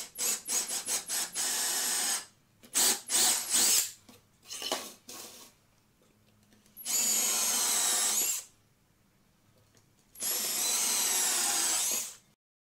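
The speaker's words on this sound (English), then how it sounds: "I'm going to drill pilot holes for all my boards" A power drill bores pilot holes into wooden boards for a fire pit bench: several short bursts early on, then two long, loud sustained runs separated by quiet pauses.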